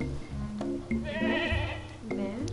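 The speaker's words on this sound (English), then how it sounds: "Goats. Meh." Goats bleat in the video game Carto, a few wavering cries over roughly two and a half seconds, close and fairly loud, mixed with game sounds.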